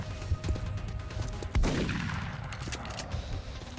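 A single sharp gunshot rings out in the turn-based strategy game XCOM: Enemy Within, with a bright crack followed by a decaying tail over quiet game ambience.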